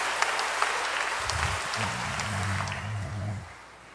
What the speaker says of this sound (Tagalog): Palapakan natin ang Diyos ng malakas.